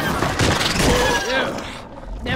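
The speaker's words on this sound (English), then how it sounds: "Sentry gun! Go get him," A sentry gun firing in the co-op shooter Deep Rock Galactic amid a dense, chaotic battle of rapid gunfire and booms, loud and close, with a voice speaking over the din.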